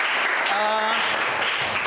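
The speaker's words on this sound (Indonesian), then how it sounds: "Oke, tepuk tangan semuanya" A short burst of group clapping in a school lesson, dense and steady, with a faint voice-like tone briefly over it.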